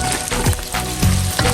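Onions fry in hot oil seasoned with Maggi and salt for firewood party jollof rice, giving a steady close sizzle with crackling pops.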